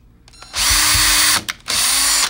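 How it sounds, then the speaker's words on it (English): Power drill boring small pilot holes into a plastic spacer for a solar racer kit, a loud close whine in two bursts split by a short pause. "you might need Mr. Metter to drill some holes into your spacer"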